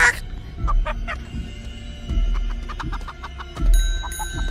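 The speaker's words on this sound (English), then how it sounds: "Oh no, I just rang a chicken bell." In the video game Chicken Feet, a chicken bell rings out with a bright, sustained metallic tone near the end, after scattered honking, fowl-like calls and thumps throughout.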